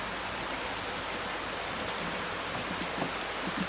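Rain falls steadily outdoors in the Scottish Highlands, a soft continuous hiss with scattered drops and no talk.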